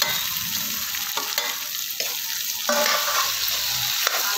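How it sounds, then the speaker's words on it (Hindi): Potatoes go into browned onions frying with a pinch of asafoetida for dum aloo, a loud, close sizzle broken by repeated stirring scrapes in an uneven rhythm, no talk. "अब इसमें हम आलू डाल रहे हैं।"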